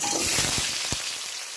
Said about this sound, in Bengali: কড়াইতে তেল গরম হয়ে গেছে, এখন আলুটা দিয়ে দিচ্ছি।